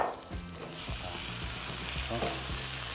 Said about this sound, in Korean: 마늘, 생강이 볶아지면서 고소한 향이 나면요